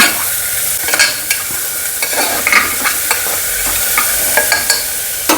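Vegetables for a white kuruma being sautéed in a pan, a steady loud sizzle with repeated scraping stirs of a spoon across the pan, no voices.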